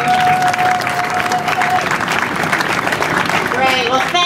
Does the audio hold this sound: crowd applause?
yes